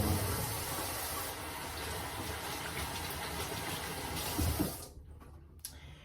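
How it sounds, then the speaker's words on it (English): Tap water runs steadily into a kitchen sink as hands are washed, close and continuous, then the flow shuts off near the end and leaves a few faint drips and small sounds. "Let me wash my hands."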